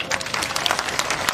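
A crowd claps at a political rally in Mau-Manikpur, Chitrakoot district, Uttar Pradesh. The applause is a dense, continuous patter of many hands, moderately loud and fairly close, lasting only a moment.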